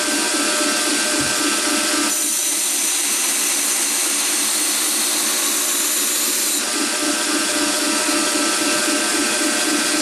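A knife blade is ground on a grinder, its hollow bevel pressed down and blended toward the cutting edge. A loud, steady motor whine carries a rasping metal grind that swells with extra pressure midway and then eases back.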